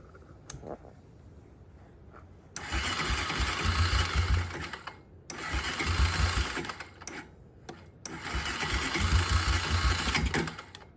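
A Honda Recon TRX250 ATV engine is started after a carburetor repair with new hoses, a new filter, a clean tank and fresh fuel. It cranks and runs in three loud, rough bursts separated by short pauses.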